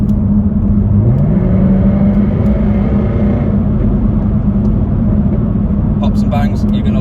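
A supercharged V8 Jaguar F-Type R runs loud and steady, its deep exhaust drone holding throughout with a brief rising note early on and a few sharp crackles near the end.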